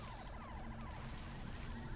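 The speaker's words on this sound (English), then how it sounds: "Oh, look, a siren." A wailing siren in the video game Halo 3: ODST, its rapid warbling rise and fall sounding moderately loud in a city street scene amid a dense wash of game noise.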